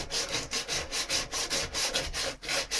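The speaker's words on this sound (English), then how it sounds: "all I was going to be doing was sanding all this inside stuff down" Rhythmic back-and-forth sanding strokes on a surface, close and steady, about three rasping passes per second with no voices.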